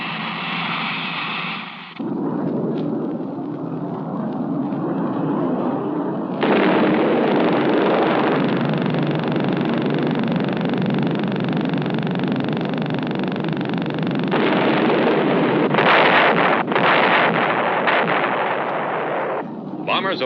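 Bombs dropped from Cold War-era bombers blast in a sustained, heavy rumble of explosions over a constant hum, loud and continuous for about twenty seconds.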